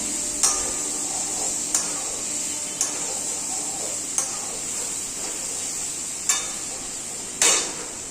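Taro leaves hitting a hot pan of frying chickpeas and onion, a steady bright sizzle broken by a few sharp scrapes and clacks of a spatula, close and fairly loud with no talk.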